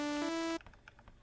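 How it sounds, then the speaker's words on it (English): A plain synthesizer saw wave holds a loud, steady tone for about half a second, then cuts off abruptly. Only faint background noise follows. "If we have a simple saw wave like this"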